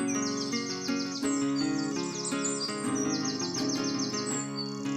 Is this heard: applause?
no